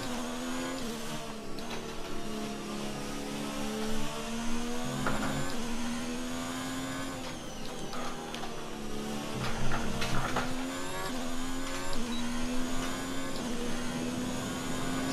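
A simulated Formula 1 car engine from the F1 2019 racing game drones steadily throughout a qualifying session, its pitch shifting up and down with gear changes, loud and continuous with no talking.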